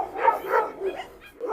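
A young Rottweiler lets out a string of short, angry barks and growls up close, in an uneven rhythm with brief pauses between them.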